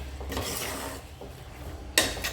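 Tomatoes frying in a pan while being stirred, a steady close rasping and scraping with soft sizzle underneath, and a sharper scrape near the end.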